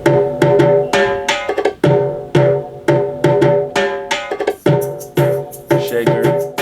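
A busy Latin/reggaeton-style percussion loop with shaker and sharp hits in a steady repeating groove, mixing bright metallic transients and tonal thumps, loud and continuous with no voices.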